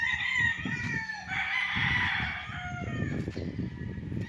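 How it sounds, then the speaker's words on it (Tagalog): Gamefowl roosters in coops on a Liliw, Laguna farm crow over one another, steady and fairly close, while lower clucking and bird noise continue beneath. "Ito yung mga kulungan ng mga manok."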